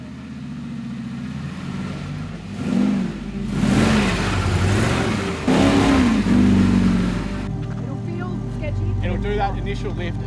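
Toyota 40 Series Landcruiser engine revving hard in bursts while crawling over an off-road obstacle, loud and close, with a steady idle between surges and people talking over it.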